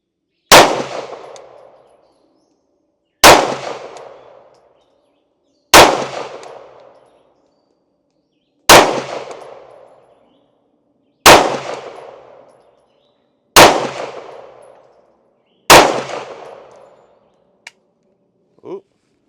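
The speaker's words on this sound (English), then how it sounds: "first shots with the Canik TTI with some 115 grain full metal jacket from Winchester" Seven sharp, loud pistol shots from a Canik TTI firing 115 grain Winchester full metal jacket rounds, spaced roughly every two to three seconds, each with a decaying echo, followed by a faint click at the end.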